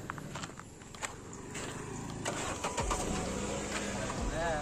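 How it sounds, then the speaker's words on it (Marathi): Car engine starting and pulling away, a low engine rumble building steadily under ambient road noise and footsteps, with people talking nearby. "चला आता आपला सरी भाऊ गाडी चालवणार आहे।"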